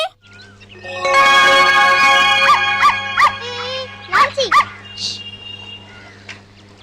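A young dog yelps and whines in a string of high, close squeals and yips, with a low steady hum in the background.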